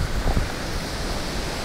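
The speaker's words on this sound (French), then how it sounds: "Je suis quasiment sous la cascade." A waterfall in Iceland roars from almost directly beneath the cascade, a dense, steady rushing noise with wind buffeting the microphone, continuous and fairly loud with no voices.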